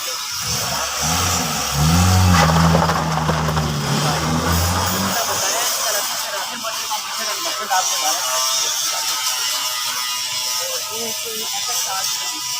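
A used car with a Multan registration runs on a test drive in Pakistan, its engine a steady mid-pitched hum with road and wind noise, under talk from people inside.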